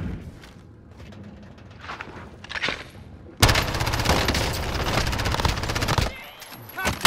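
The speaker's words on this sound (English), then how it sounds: "Getting shot at again." Close, loud automatic gunfire in the shooter game Call of Duty: Modern Warfare. A dense barrage of shots runs for several seconds after quieter scattered firing, with voices faintly underneath.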